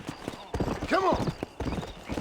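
Horse hooves clip-clop at a gallop in the Red Dead Redemption video game, a steady rapid rhythm close by, with a brief horse whinny in the middle and speech over the hoofbeats.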